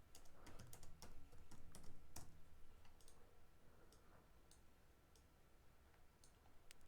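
Keyboard typing while working in Blender geometry nodes, a quick run of faint key clicks in the first half, then sparser isolated taps over a low room hum, no voices.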